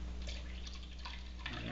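Distilled water poured onto a kitchen scale while making liquid castile soap, a quiet steady trickling and dripping with faint splashes, low and continuous throughout with no talk.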